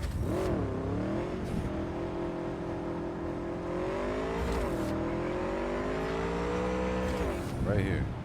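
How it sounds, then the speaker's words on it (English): Motorcycle engine in Cyberpunk 2077 revving steadily at close range with rising and falling pitch sweeps, accompanied by continuous game background sound throughout. "Okay, I'm gonna use my motorcycle to get there."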